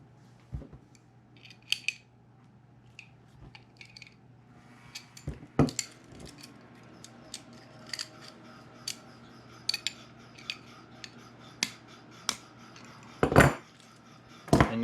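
A nut being tightened by hand on a homemade lure retriever, heard as scattered small metallic clicks and taps, with a brief louder clatter near the end.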